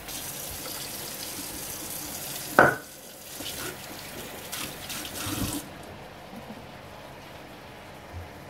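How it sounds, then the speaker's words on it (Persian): Boiling water and rice pour and splash into a sink or pot as rice is drained, with a sharp splash early on, then quieter running and trickling that tapers off. "جوش رو برنج میگیرم و برنج رو خالی میکنم."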